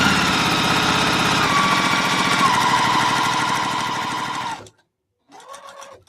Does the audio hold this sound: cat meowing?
no